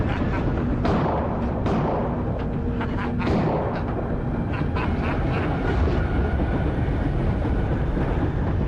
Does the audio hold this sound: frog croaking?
no